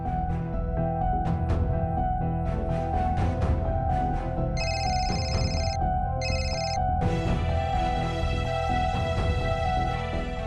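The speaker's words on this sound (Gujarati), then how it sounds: "કુણાલને આટલી રાત્રે ફોન કોણ કરી રહ્યું છે?" A telephone ringtone chimes late at night in a Gujarati TV drama scene, two short electronic bursts rising over a continuous dramatic music score, with no talk.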